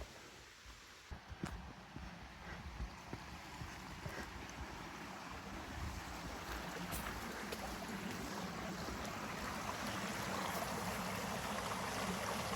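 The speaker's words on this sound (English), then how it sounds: "Almost like running into these little waterfalls along the way." Small waterfalls beside a hiking trail between Matheson Lake and Cedar Grove, a continuous broad rush of falling water that grows slightly louder over the span, with faint wind and no talking.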